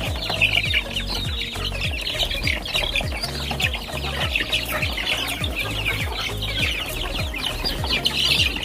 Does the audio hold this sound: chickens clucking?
yes